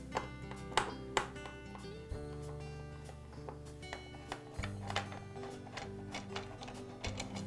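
Small clicks and ticks from screws being unscrewed from the switch plate of a DeWALT table saw, irregular light taps over a steady low hum, close and quiet with no talk.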